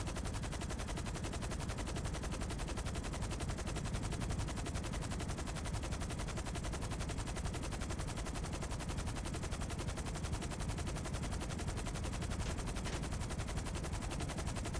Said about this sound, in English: I'm getting shot at, dude.